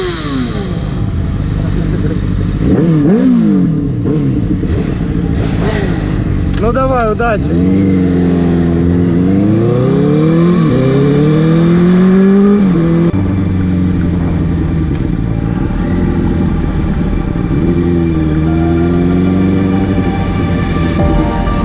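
Loud exhaust of a Benelli 600 motorcycle revving up and down in repeated sweeping bursts, close by, with people briefly talking over the engine.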